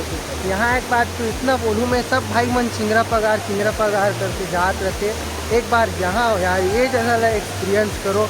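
Andhiyar Jhola waterfall pours in a steady, loud broadband rush while someone talks over it almost continuously, close to the microphone.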